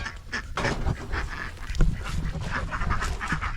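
Several ducks quack in a busy, overlapping chorus close by, with a steady noisy background throughout.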